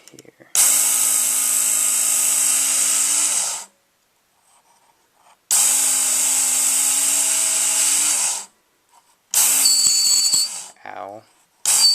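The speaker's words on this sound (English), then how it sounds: "that's only one of the downsides to having this kind of sharpener is, yeah, it gets kind of loud sometimes" A Work Sharp knife sharpener grinds a blade in three loud bursts, each a harsh, buzzing whine lasting a few seconds and split by short silences, the last burst shorter and more uneven.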